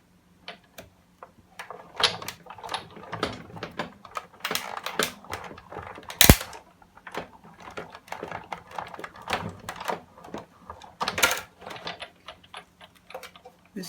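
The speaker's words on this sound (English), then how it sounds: "And we'll put them through using the Big Shot." Paper cranked through a Big Shot die-cutting machine while cutting red paper tool handles for a men's card, giving a steady run of close, dry clicks and ratcheting ticks with one sharper snap midway, no talking.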